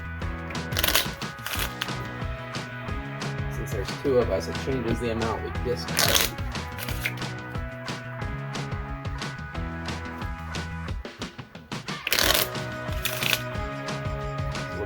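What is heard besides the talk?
shuffling Minecraft Explorers board game cards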